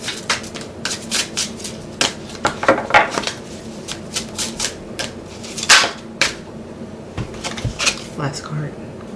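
Playing cards are shuffled and handled in a steady series of crisp riffles, snaps and slaps, close and moderately loud, with a person talking at points alongside.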